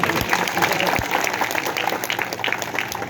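Village crowd clapping at a gathering in Rojkhera, Uchana, honoring a gold medalist daughter, dense sustained applause close by with a couple of sharp thumps and a background voice murmuring.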